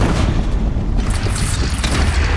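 Cannon fire in Horizon Zero Dawn, a continuous heavy booming rumble with dense low-end thuds running steadily through the moment, loud and close.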